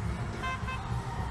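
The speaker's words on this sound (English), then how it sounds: "I'm getting irritated by the honking horns." Car horns honking steadily in a video game, a dense layered blare of tones over a low rumbling background, continuous and fairly loud with no break.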